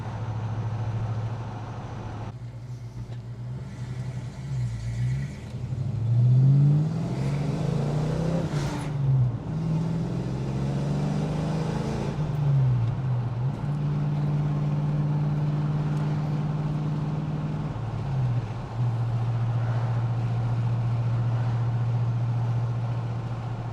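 A Ford Fox body Mustang drives down the road, its engine droning steadily from inside the car and rising and falling through several gear changes over a constant road rumble.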